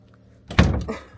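An RV interior door swings shut with a single solid thunk and a short rattle afterward, close and fairly loud.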